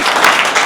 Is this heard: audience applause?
yes